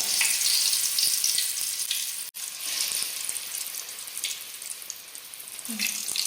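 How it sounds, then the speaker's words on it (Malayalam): Unnakaya plantain snacks deep-frying in hot oil, a steady close hiss and sizzle with faint clinks, no talking. "നമ്മുടെ എണ്ണ ചൂടായി വന്നിട്ട് നമുക്കിത് വറുത്ത് കോരിയെടുക്കാം"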